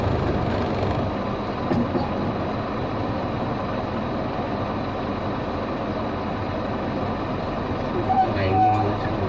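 A train rumbles steadily past a railway crossing on a Vietnamese driving test course, a continuous low clatter heard from inside a vehicle, with a brief faint tone near the end.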